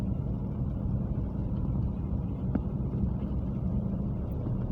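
A car drives through the streets of Park View City, Islamabad, heard from inside as a steady low road rumble and engine drone with light wind noise, no talk.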